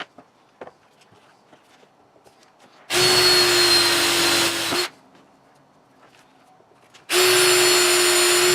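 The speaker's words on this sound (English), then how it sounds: "So I'm just going to center punch each one of these holes and drill it through" A power drill bores rivet holes through metal while a Lexx XC spark arrestor is installed, two loud steady whirring bursts of about two seconds each separated by quiet handling noises.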